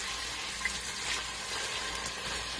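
Beef sizzling in hot oil in a pot on the stove, a steady, soft hiss of frying that runs continuously without talk.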